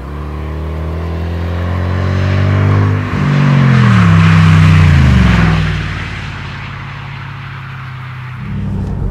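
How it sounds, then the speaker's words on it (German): Engine rumble from a 2008 Mercedes SLR McLaren Roadster V8 while driving, loud and close, with rising and falling harmonic sweeps as revs climb and drop through gear changes, no talking. "Eins, was man hört, ist das Bollern der 8 Zylinder."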